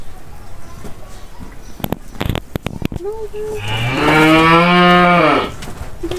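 A cow in a village farmyard in Adıyaman lets out one long, loud, close moo after a few seconds of rustling, clattering sounds and a short low call.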